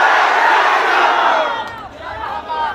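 A crowd at Rajdevi temple in Janakpur loudly chants and shouts together in a sustained, dense roar that eases slightly toward the end, like a devotional call of Jai Shri Ram.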